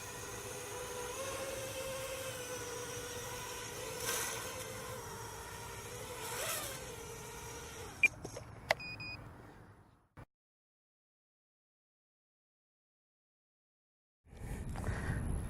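A quadcopter drone hovers on its first flight, a close, steady multi-rotor buzz with slight pitch swells, then a couple of beeps as it winds down into silence before a burst of noise returns.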